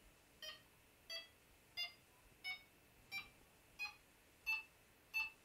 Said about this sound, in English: But if I hold it down, I can change the beep speed.